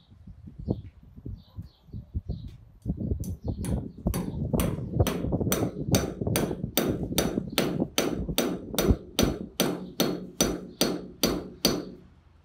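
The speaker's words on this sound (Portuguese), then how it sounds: "Agora eu vou fazer o teste do prego para vocês verem." A nail is hammered into wall plaster, first with soft irregular taps, then a steady run of about twenty sharp, loud, evenly spaced hammer blows ringing close by.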